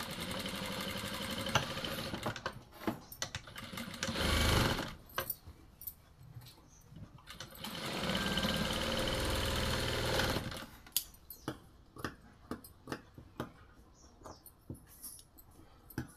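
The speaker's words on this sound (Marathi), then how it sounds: "बघा आता याला डबल टिप मारून घ्यायची आपल्याला।" A domestic sewing machine double-stitches a blouse, running in two sustained whirring bursts separated by quieter pauses filled with scattered clicks and handling noises, close and fairly faint.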